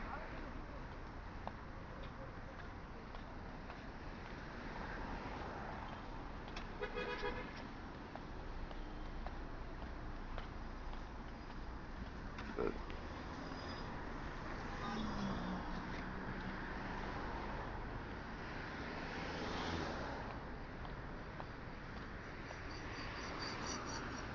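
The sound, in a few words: busy road traffic with car horns in Jeddah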